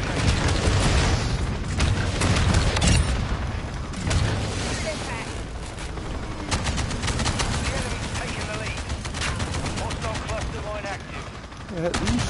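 Gunfire in a shooter video game: constant loud rattling bursts and booms fill the whole stretch, a chaotic firefight with a voice talking through it.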